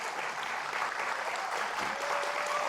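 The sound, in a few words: audience applause for Mr. Dinesh D.C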